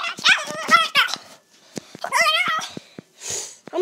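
A dog barks and yips in short, loud bursts, mixed with excited human voices talking nearby.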